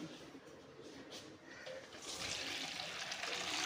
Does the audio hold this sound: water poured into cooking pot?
yes